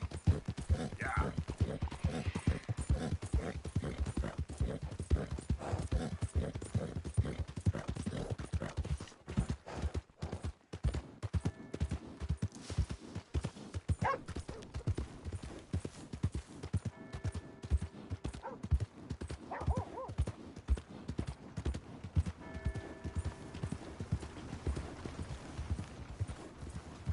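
Steady clip-clop of horse hooves while riding in a PS4 video game, rhythmic and close throughout, with a brief lull partway through and game voices and talk mixed in over the galloping.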